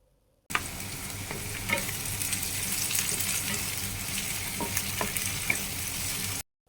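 Fermented red bean paste sauce being stirred in a hot pan, with a loud, steady sizzle of frying and scattered scraping clicks of the utensil against the pan, with no talking.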